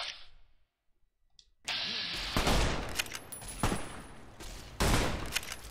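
Gunfire in Fallout New Vegas on hardcore mode: a short hush breaks into loud, close bursts of rapid shots, fusillades rising and falling over several seconds.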